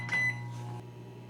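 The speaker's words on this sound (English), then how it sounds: "both the microwave and the air fryer are running now" A microwave and an air fryer start up on a Jackery portable power station, with a short electronic beep followed by a steady low hum of the appliances running.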